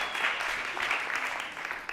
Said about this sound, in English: a round of applause if you've known Danny for 5 years